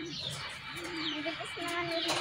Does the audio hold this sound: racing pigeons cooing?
yes